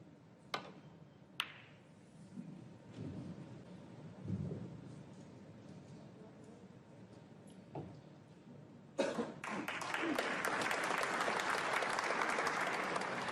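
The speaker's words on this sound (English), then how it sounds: "a round of applause for the break-off shot" Audience applause breaks out after the break-off shot in a Masters 2022 snooker quarter-final between Neil Robertson and Ronnie O'Sullivan, a sustained, steady clapping from the arena crowd following a few isolated knocks and quiet murmurs.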